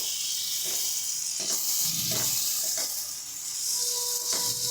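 Chopped tomatoes go into frying spices for a hilsa roe curry, setting off a bright, steady sizzle close up, with a few soft stirring scrapes and no voices.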